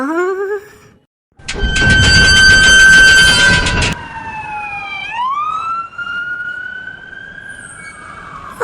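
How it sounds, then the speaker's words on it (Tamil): A loud cartoon ambulance siren wails near, rising and falling in pitch, with a burst of blaring horn-like tones and rumbling traffic noise in the middle. "ஆம்புலன்ஸ் சத்தம்"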